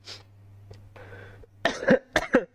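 A few sharp coughs in quick succession after a quieter stretch with a low hum and faint rustling, fairly close and loud.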